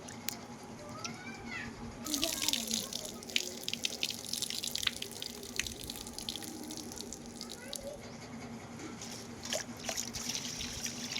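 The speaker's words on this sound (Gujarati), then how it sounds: "તો હવે ચોખા આપણે ધોઈ રહ્યા છીએ હારા પાણીમાં" Rice grains being washed by hand in plain water in a kitchen, with steady splashing, dripping and swishing that starts loud after a brief quieter moment and continues close up, without talk.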